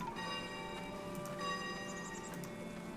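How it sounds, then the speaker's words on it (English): Church bells tolling in the town-building game Foundation, tuned to a low C pitch: a soft, steady ringing with a sustained metallic tone and faint ticking, heard at a moderate distance over light ambient noise. "You can change how frequently the bells ring and what type of bells they are."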